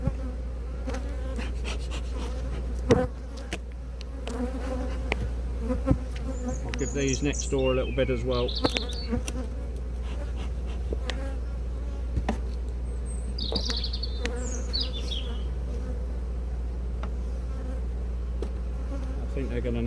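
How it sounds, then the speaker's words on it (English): Honey bees in an agitated mood swarm around a hive in an apiary, a constant layered buzz with individual bees whizzing close by, someone speaking briefly over it and faint birdsong behind. "the bees have chased them, so they're obviously in a mood with everybody"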